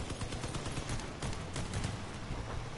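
Gunfire in the vehicle combat game Crossout, a steady stream of rapid, moderately loud shots fired from range, continuous for the whole stretch with no talk over it.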